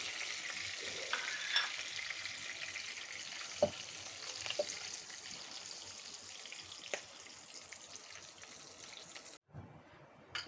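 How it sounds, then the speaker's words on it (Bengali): Whole cinnamon, cardamom, white pepper and cloves frying in hot oil for a Bengali prawn malaikari, a continuous close crackling sizzle with occasional pops and a brief cut near the end, no voices. "এখানে 3 পিস আছে দারুচিনি, এখানে 4টা এলাচি, কয়েকটা সাদা গোলমরিচ আর 4টা লবঙ্গ।"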